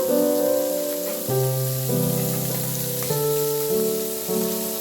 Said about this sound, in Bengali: মাছগুলো আমি ভেজে নেব গ্যাসের ফ্লেম মিডিয়ামে রেখে, কারণ মাছগুলো খুব মুচমুচে করে ভাজবো না।